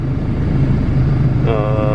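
A turbocharged Honda Civic GSR EF sedan engine idles steadily with a low, smooth rumble, and a higher tonal whine joins in near the end, heard up close without talk.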